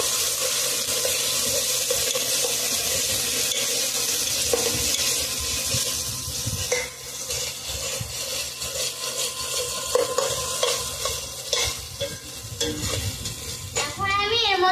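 Ginger and garlic paste stir-fries in a pan for a chicken curry, making a loud, dense sizzle with spatula scraping that grows busier toward the end, and a watery rush mixed in. Nobody speaks.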